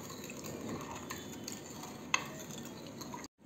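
Custard cake batter flavored with vanilla essence and cardamom powder is stirred steadily in a bowl, a soft continuous scraping swirl up close, with one brief clink of the spoon against the rim near the end.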